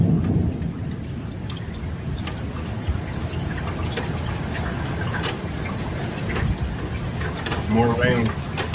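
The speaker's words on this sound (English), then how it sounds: "More rain." Heavy rain pours steadily during street flooding in Italy, with rolls of thunder rumbling through the downpour and a brief louder crack near the end.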